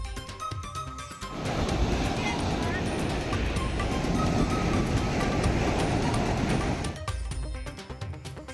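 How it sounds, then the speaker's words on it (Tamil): Rough sea waves surge at Dhanushkodi, a loud, continuous churning roar of surf that swells in after about a second, holds for several seconds, then drops away near the end. "தனுஷ்கோடியில் கடல் சீற்றத்தால் 6 அடிக்கு மேல் எழுந்த கடல் அலைகள்."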